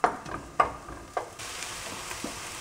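Chopped onions frying on high heat for chili, with a steady sizzle running throughout and several sharp stirring or scraping clatters near the start, alone without talk.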